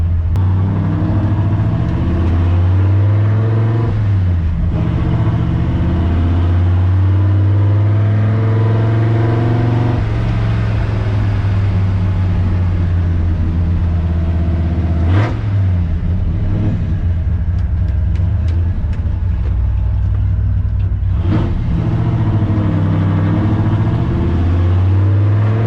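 A high-compression Ford F100 pickup engine lugs hard at wide open throttle in third gear while driving on the street, a loud, continuous low droning rumble that swells and eases with occasional sharper surges, with no talk.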